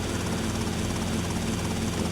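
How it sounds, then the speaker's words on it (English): A helicopter in GTA: Vice City, its rotor and engine producing a loud, continuous, close thrum with steady blade chop and no talk over it. "Just park the helicopter right on the street."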